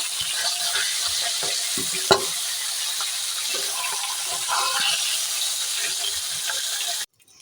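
Spices frying in hot oil for a fish-head curry, a loud, steady hiss and crackle with one sharp clink near the start, then an abrupt stop near the end.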